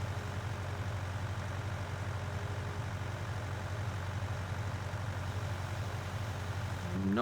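A tractor engine in Farming Simulator 19 drones steadily at a low idle-like pitch throughout, fairly quiet and constant, with a slight rise in revs near the end.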